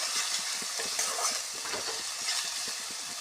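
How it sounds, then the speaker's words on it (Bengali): Spice masala with chili and coriander powder sautéing in a pan for a spinach dish, a steady close sizzle of frying broken by repeated scraping stirs of a spoon against the pan, with no voices. "লঙ্কা গুঁড়ো দিয়ে দেব ধনে গুঁড়ো দিয়ে দেব ভালো করে মশলাটাকে কষিয়ে নেব"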